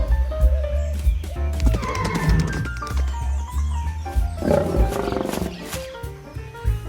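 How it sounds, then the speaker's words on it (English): Lions roar in two loud swelling bursts with rumbling growls between them, close and heavy, laid over a musical backdrop, no voices present. "Lion."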